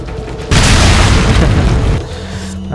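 A heat grenade goes off in Resident Evil 4 Separate Ways, one loud, close boom that swells suddenly and rumbles for about a second and a half before dying away into quieter game ambience.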